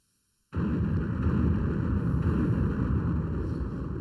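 A sudden deep roaring blast of a spaceship explosion erupts after a brief silence, then sustains as a loud, rumbling, wind-like wash with no talking.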